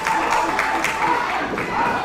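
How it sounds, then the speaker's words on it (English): Wrestling fans at a live independent match, a crowd roaring and cheering with scattered applause, a steady noisy wash with a voice calling over it. "Fans applauding Pittman."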